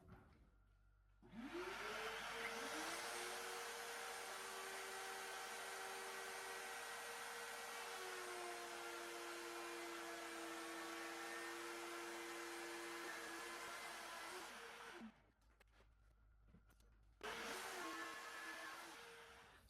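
Shop vac dust collection running during a woodworking shoe storage build, a loud steady whine that starts abruptly, drones evenly for over ten seconds, cuts off briefly, then starts again.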